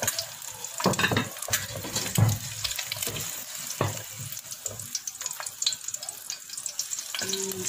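Egg frying in a pan for Indonesian mie goreng with a sunny-side-up egg, a steady close sizzle with scattered crackles and clinks of a utensil, no talking.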